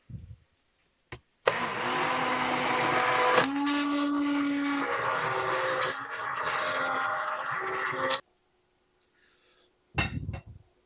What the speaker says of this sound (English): I'm gonna blend it like I had mentioned.